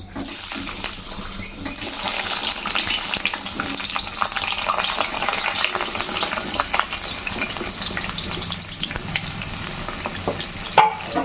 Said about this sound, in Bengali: প্রথমে আলুগুলো লাল লাল করে ভেজে নেব।